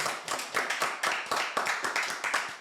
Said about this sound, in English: gonna clap it up for Dro, man.